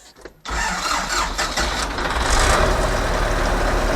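A hot YuMZ tractor's D-240 diesel engine cranks briefly, then catches and settles into a loud, steady rumbling idle, close by with a rough low throb.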